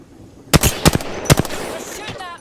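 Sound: gunfire shooting in a video game

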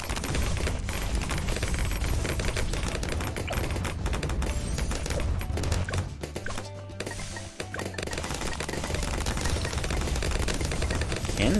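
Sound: cannon towers firing in video game Bloons TD 6

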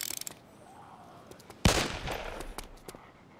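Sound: gun reloading in the video game DayZ

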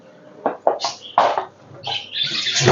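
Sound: cage birds chirping

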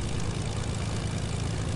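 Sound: plane engine in a video game

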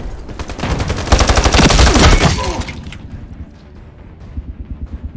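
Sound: grenade going off in a video game

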